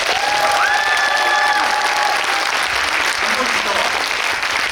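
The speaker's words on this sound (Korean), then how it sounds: "이준익 감독님과 정진영 선배님께 뜨거운 박수 한번 부탁드립니다" A cinema audience at a special guest screening applauds a film director and a veteran actor, a dense, loud wash of clapping with faint voices and a brief sustained tone early on.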